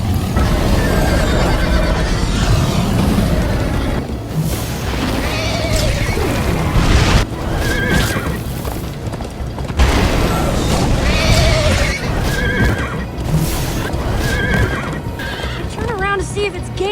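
A horse in the Minecraft: Story Mode video game gallops with steady clip-clop hoofbeats and neighs loudly several times, all over a dense game soundtrack with busy effects and some talk.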